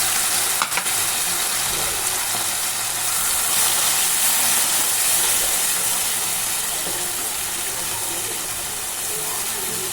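Homemade red masala and ground paste sizzle in the pan for a Konkani mackerel curry, a loud, continuous frying hiss close up with occasional stirring scrapes.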